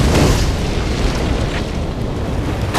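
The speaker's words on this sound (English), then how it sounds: "We just stood in the midst of the explosion." A film-set explosion effect roars as a sustained, dense broadband blast that rumbles on for nearly three seconds at close range, with no speech over it.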